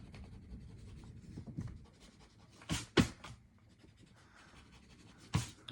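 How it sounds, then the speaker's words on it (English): Light pencil lines being erased from a finished Santa holiday card drawing, heard as soft, quiet rubbing strokes with a few sharper, louder scrubbing bursts, close up with no talking. "I can come in and I can erase these light pencil lines"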